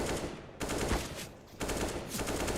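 Rapid automatic gunfire crackles in a competitive shooter video game, loud sustained bursts broken by two short pauses, with no talk over it.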